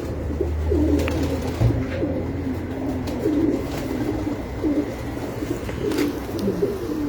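Rooftop pigeons give repeated soft, throaty coos in overlapping phrases, fairly close and continuous, with other birds calling faintly around them.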